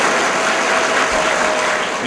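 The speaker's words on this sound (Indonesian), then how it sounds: "Kita tepuk pada Tan Sri dan rakan-rakan profesor yang sudi hadir sini." Symposium audience in Terengganu claps for a Tan Sri and visiting professors, a steady even wash of many hands at close range throughout, with no voice over it.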